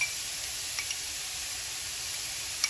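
Mirepoix with garlic and shallots sweating in a pan, giving a soft, steady sizzle with faint crackles throughout and no talking.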